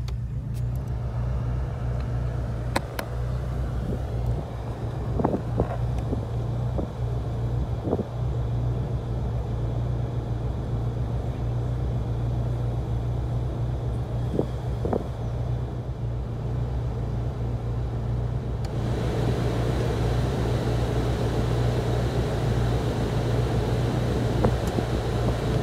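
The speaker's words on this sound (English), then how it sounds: "You can hear me over the top of the blowers going. I've got the heater on level 3." Car heater blower fan running on setting 3 inside a stationary vehicle, a steady close whooshing roar with a low hum, continuing alone with no talk over it.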